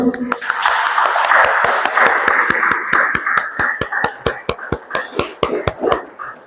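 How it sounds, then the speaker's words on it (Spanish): Small group at a workshop applauding the host with a brief burst of clapping that thins to a handful of sharp, separate claps, under a speaker's voice at the start. "Vamos a brindarle un fuerte aplauso."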